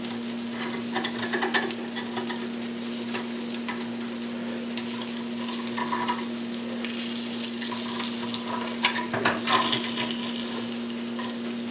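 Quail eggs frying in a small pan on a gas burner, a steady close sizzle with light crackles and a constant low hum underneath, no talking.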